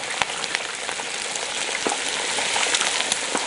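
Whole turkey deep-frying in hot oil, giving a steady, dense sizzling crackle with scattered louder pops, close and continuous throughout with no voices.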